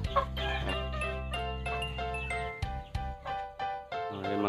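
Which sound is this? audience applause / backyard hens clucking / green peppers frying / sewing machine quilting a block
backyard hens clucking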